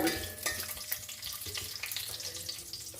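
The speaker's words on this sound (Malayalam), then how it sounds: "ആദ്യമായിട്ട് ഞാൻ നമ്മുടെ അണ്ടിപ്പരിപ്പ് അങ്ങ് വറുത്തെടുക്കാം" Cashews sizzle and crackle in hot oil in a pan, a soft, continuous frying hiss with occasional stirring clinks.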